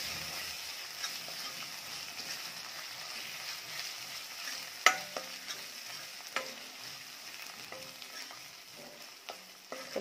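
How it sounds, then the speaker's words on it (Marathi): Ginger-garlic paste frying with Kolhapuri onion-garlic chutney in a pan, a soft steady sizzle with occasional scraping stirs and clinks, close and fairly quiet. "यामध्ये आलं लसूण पेस्ट टाकायची आणि ती देखील छान परतून घ्यायची आहे"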